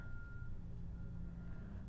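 A truck's reversing alarm beeps steadily in the background, faint and regular over a low rumble.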